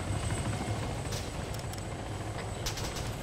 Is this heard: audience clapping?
no